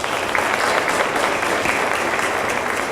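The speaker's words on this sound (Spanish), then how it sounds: "Brindémosles un fuerte aplauso." An audience at the opening ceremony of a diploma course on personal data protection claps, a dense, steady burst of applause from many hands that fills the whole stretch at fairly loud level.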